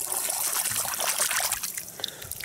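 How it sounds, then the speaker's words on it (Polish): A spring carp is slipped back into the water of a fishing lake, with close, bright splashing and trickling as the fish and water move, and no voices. "Szybko go do wody dam, żeby się nie męczył."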